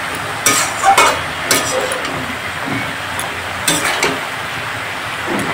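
Greens and whole peas frying in a wok while being stirred, giving a constant close sizzle broken by several sharp scrapes and knocks of the utensil against the pan.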